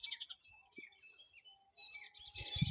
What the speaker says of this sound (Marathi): पक्ष्यांचा सुरेख आवाज